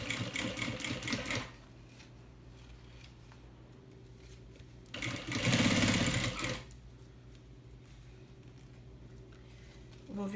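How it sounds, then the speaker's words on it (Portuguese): A sewing machine stitches fabric for a small thermal bag, running in two bursts of a second or two each, a steady fast mechanical whir close by, separated by quiet pauses. "eu vou continuar costurando aqui"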